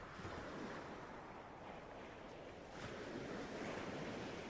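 Sea waves break on a shore in a steady, dense roar of surf that swells and eases gently, close and continuous with no voices.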